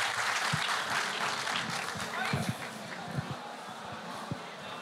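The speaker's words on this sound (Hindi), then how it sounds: "तो मैं चाहता हूँ जोरदार तालियों से जहाज देवबंदी का इस्तकबाल करेंगे।" An audience at a humorous mushaira poetry gathering breaks into lively applause to welcome a poet, a broad wash of clapping with a few sharper claps and faint voices mixed in, fairly quiet overall.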